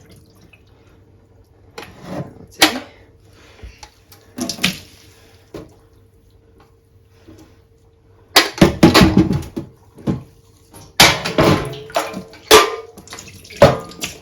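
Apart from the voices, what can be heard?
water poured out of a dye pot, draining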